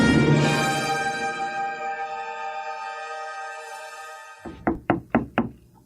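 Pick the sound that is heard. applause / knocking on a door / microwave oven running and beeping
knocking on a door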